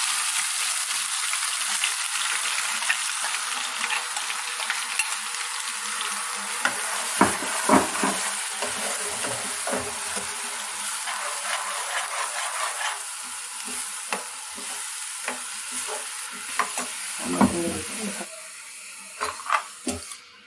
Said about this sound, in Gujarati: હવે આપણે આ ગ્રેવી વઘારવા મૂકીશું.